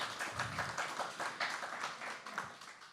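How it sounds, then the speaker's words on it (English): An audience at a talk gives a steady round of applause, dense overlapping clapping heard at a moderate distance with no voices over it. "Give him a round of applause."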